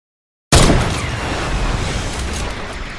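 Gunfire in the video game Fortnite: a sudden loud burst breaks out of silence, then dies away into a sustained, roaring decay.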